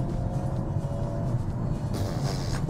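A Hyundai Kona N in N mode accelerates hard, its engine giving a steady loud low rumble that builds, with a brighter rise in the engine note toward the end.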